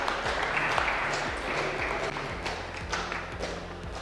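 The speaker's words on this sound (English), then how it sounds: "Can we just give them a round of applause?" Steady clapping from a small crowd at a Hyundai dealership showing the 2022 IONIQ 5, with a repeating low tonal pattern running underneath the applause.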